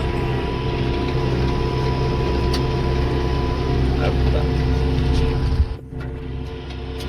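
Tractor pulling a nearly empty sprayer across a field, its engine droning steadily and close, with a brief dip near the end before the rumble resumes.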